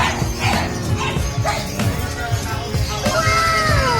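Several Pomeranian dogs bark and yip in a busy pet market during a Christmas sale, with harmonic barks repeating steadily over a lively background and people talking nearby.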